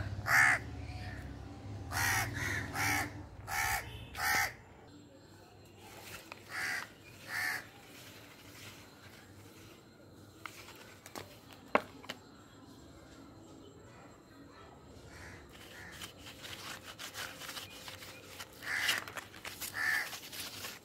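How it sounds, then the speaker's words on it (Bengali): An adult crow and its fledged chick caw in trees near a feeding and water spot, with loud repeated harsh caws in bursts, a quieter stretch, then scattered calls again. "ওই যে বড় কাকটা বসে রয়েছে আর এই ছোট কাকটা।"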